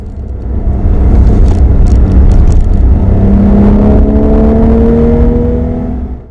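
A Porsche 991 Targa 4S engine, roof up, revs up steadily and loudly, its pitch climbing as it accelerates, then the sound cuts off.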